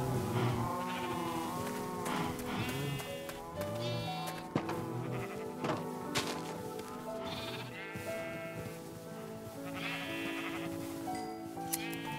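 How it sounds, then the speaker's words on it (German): Several sheep bleat repeatedly in the Minecraft video game, overlapping calls of varying pitch over a steady soft background, moderately loud and close throughout. "Damit würde ich sagen, paaren wir mal hier unsere Schafe."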